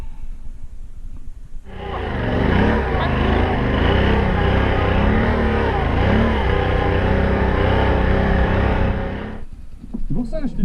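Off-road motorcycle, a Ténéré 700 or 1200 GS adventure bike, ridden through sand on a trail in Albania: a loud, close engine that revs and drones steadily for about eight seconds, rising and falling with the throttle, before cutting to quiet.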